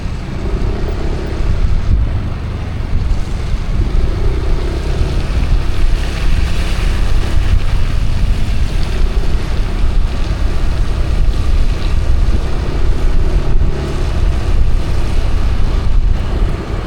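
A boat moves through floodwater in a Thai village after a flood wall broke, its steady engine drone and water wash mixing with wind buffeting the microphone, continuous and fairly loud with no talking.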